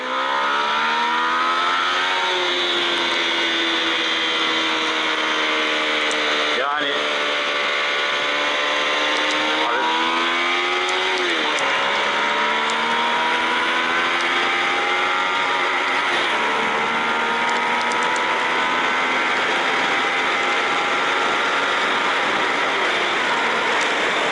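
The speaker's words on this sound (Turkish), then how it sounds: "Şu an birinci vitesteyim. Gaz tepkisi. Sadece gaz koluna bakın." A Ducati 749 motorcycle engine revs in first gear, the throttle blipped repeatedly so the pitch rises and falls in several quick sweeps over a steady, loud idle, with no talk.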